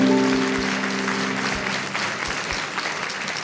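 A crowd claps in dense, even applause that holds for several seconds and slowly eases off, with a voice briefly audible at the very start.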